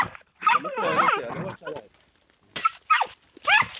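Hunting dogs bark and yip excitedly at a cornered opossum in bursts, close by, mixed with whimpers and brief gaps between outbursts.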